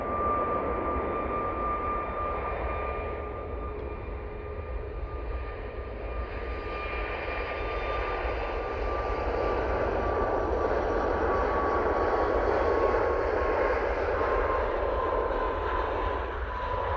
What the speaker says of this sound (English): There goes the TUI 737 MAX 8.